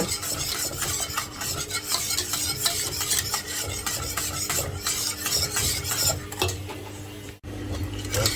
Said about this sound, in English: So just mix it until it's just about to boil, but no, cannot boil it.